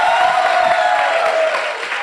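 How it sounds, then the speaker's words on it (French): Studio audience on a television set breaks into applause, a dense burst of clapping and cheering that holds steady for a couple of seconds and starts to fade near the end. "Ça s'applaudit, s'il vous plaît."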